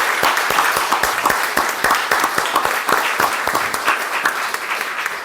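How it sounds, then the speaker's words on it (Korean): A church congregation at a Sunday worship service applauds a professor, Lee Jae-young, with steady, dense clapping that holds for the whole stretch at moderate loudness. "우리 귀한 말씀을 주신 우리 이재영 교수님께 다시 한번 큰 감사의 박수 한번 부탁드립니다"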